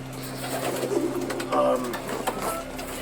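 Colored pigeons cooing close by, with soft repeated coos and rustling over a low steady hum.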